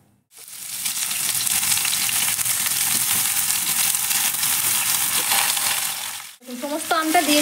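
Raw mango pieces hit hot mustard oil already holding whole spices, bay leaves and dried red chillies, setting off a loud, steady sizzle that runs for several seconds before a brief pause and some clinking stirring.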